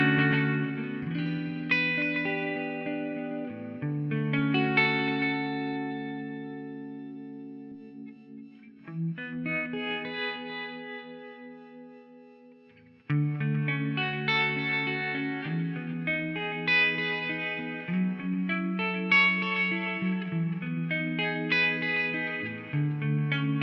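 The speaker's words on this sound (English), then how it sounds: "I love that harmonic tremolo." Electric guitar played through a Fender Mustang Micro Plus with harmonic tremolo and reverb: chorded phrases pulse and shimmer, one chord ringing out and fading before the playing resumes, clean and close with no talk.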